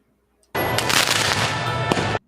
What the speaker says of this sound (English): The gangs are shooting fireworks at the police.